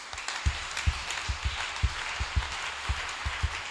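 A church congregation claps steadily in rhythm, cheering and acclaiming the Lord, the claps dense and close with a bright wash of crowd noise throughout.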